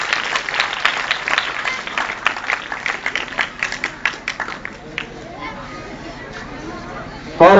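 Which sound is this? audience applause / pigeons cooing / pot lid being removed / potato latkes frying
audience applause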